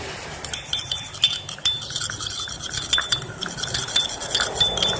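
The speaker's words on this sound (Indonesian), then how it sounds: "Lalu kita aduk." Spoon stirring sweet soy sauce (kecap) in a cup, giving rapid light metallic clinks and scraping against the rim over a few seconds, close and fairly clear with no talk.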